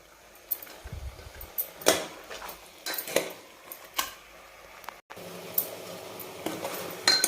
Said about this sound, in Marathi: चांगलं पाच मिनिट आपण याला हलवून घेऊ छान मटणचा कलर आपला बदलेपर्यंत